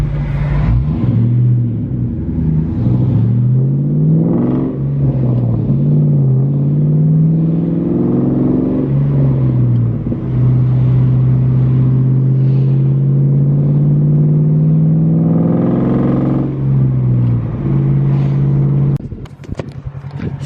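A car engine drives and accelerates steadily, its loud, continuous hum rising and falling through repeated revs over about twenty seconds, with brief dips between gear changes.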